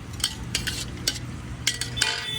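Mixed vegetables with tomatoes for a Gujarati-style moong pulav are stirred in a pan, a spoon clinking and scraping against the metal in several sharp strokes over a faint sizzle, close up and without speech.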